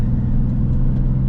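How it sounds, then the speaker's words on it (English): A car engine with a stage 2 clutch idling smoothly, a steady low rumbling purr heard close and constant for a moment. "You listening to that engine purr?"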